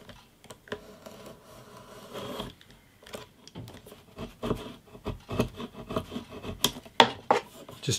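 Hand tool cutting a channel into the wooden neck of a vintage parlour guitar, a run of close, dry scraping and rasping strokes that grow louder and more rhythmic toward the end.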